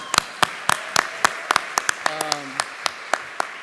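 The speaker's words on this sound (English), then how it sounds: "So how about a round of applause for them?" Sparse, sharp claps ring out at a podcasting awards ceremony as an audience applauds spouses and significant others: a thin scatter of individual hand claps, fairly close, with a faint voice mixed in.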